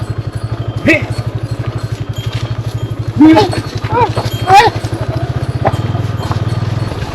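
A motorcycle engine drones steadily and close on a road in the Konkan coastal region, with traffic around, while a voice speaks briefly over the engine noise.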